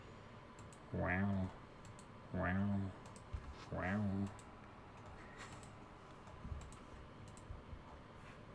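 Faint, scattered computer mouse clicks tick softly in the background while someone speaks in short voiced bursts.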